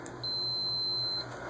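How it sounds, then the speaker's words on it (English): A single thin electronic beep from a multimeter, steady and high-pitched, lasting about a second over a quiet room hum. "I like transistor setting because it'll beep."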